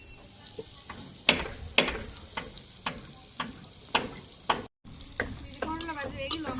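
Bitter gourd fries in oil under a soft sizzle, punctuated by regular scraping strokes of a spatula every half second or so, close and distinct, no talking.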